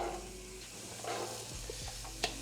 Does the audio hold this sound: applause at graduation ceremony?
no